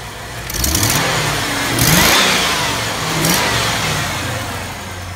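A 1996 Chevy Impala SS engine runs steadily nearby, swelling in a few gentle revs before settling back to a rumbling idle.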